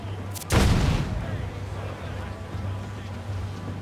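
A ship's cannon booms in Assassin's Creed IV Black Flag, one loud close blast with a rolling tail fading into wind and ocean ambience, while a voice calls out just before.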